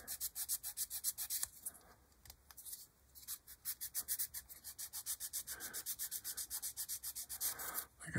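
Small sander working on a plastic pin of a 1/48 B-25J scale model kit, a quick rhythmic rasping stroke repeated many times, close and crisp, with a few brief pauses.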